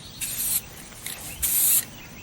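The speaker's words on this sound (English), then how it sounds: "What we want to do is do a fine, even side-to-side spray on this" Aerosol spray can hissing in short even side-to-side passes, three distinct bursts of bright spray noise with brief pauses between them, close and fairly loud.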